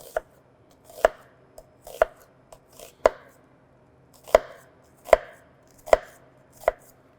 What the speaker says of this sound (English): And then you can just cut straight down, and you have a perfectly diced onion.